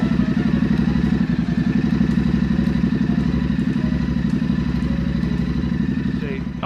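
Royal Enfield Continental GT 650 motorcycle engine idling, a steady rhythmic parallel-twin chug close by, even and continuous.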